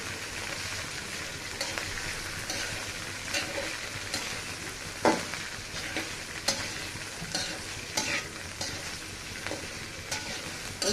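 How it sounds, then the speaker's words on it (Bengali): Long beans, potato and cauliflower fry in a pan with a soft continuous sizzle, while stirring adds occasional light scrapes and taps, close but fairly quiet, with no voices. "এবার ভালো করে নাড়াচাড়া করে দিব"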